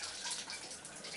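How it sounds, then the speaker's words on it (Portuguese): Shower water spraying during a baby's first shower bath with the father, a soft continuous hiss of falling water, close but quiet, with no voices. "É um banho no chuveiro, meu primeiro banho no chuveiro"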